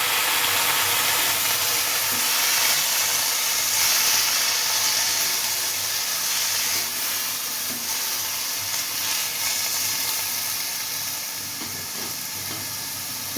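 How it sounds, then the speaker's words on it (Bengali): Water splashed into a hot pan of spinach and radish with bori sets off a steady, broad sizzle and hiss of steam that fades slightly toward the end, close and continuous with no talk. "অল্প করে জল দিচ্ছি, একদম অল্প।"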